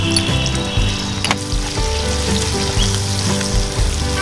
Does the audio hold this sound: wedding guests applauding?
no